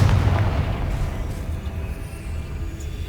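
A Confringo fire spell blast from Hogwarts Legacy hits with a loud, booming burst at the very start, then trails off into a dense, rumbling decay.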